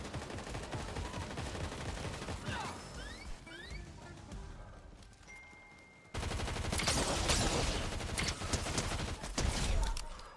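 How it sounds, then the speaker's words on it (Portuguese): Rapid gunfire in Fortnite, dense overlapping shots and bursts echoing through a firefight, with a quieter stretch before the shooting surges louder and nearly continuous in the second half. "eles estão atirando no bot"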